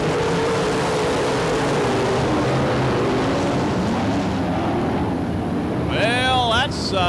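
UMP late model race cars launch on the green flag at a Barberville, Florida dirt track, a dense roaring engine wash building over the start as an announcer talks over it.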